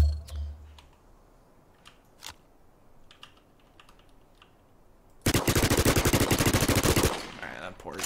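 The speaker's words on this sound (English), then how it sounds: "I hear gunfire already." In the video game Last Man Standing, a few faint, distant single shots pop over a quiet background, then a loud, close burst of rapid automatic fire runs for nearly two seconds.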